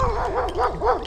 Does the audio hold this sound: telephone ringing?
no